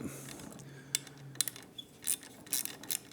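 A wrench works on handlebar clamp bolts of a 2024 Triumph Speed Twin 1200 motorcycle, making close metallic ratcheting clicks and light clinks in short irregular bursts, without speech.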